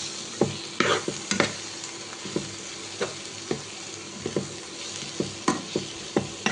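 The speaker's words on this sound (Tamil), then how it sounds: "ஆட் பண்ண தக்காளியை நல்லா கிளறி விட்டுக்கலாம்." Tomatoes frying in a pan for egg gravy are stirred, giving a steady sizzle broken by irregular, fairly close scraping and clacking strokes of the spoon.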